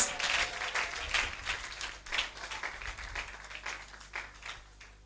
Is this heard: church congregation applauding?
yes